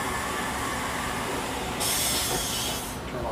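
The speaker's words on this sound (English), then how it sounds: "you might be able to hear the water pressure going out right now" Water under pressure rushing out through a home water heater's pressure relief valve and pipe, a steady loud broadband hiss that brightens and intensifies partway through, then eases slightly near the end.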